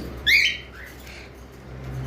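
A cockatiel from a breeding pair lets out one sharp, high squawk, followed by a few faint chirps over a low background hum.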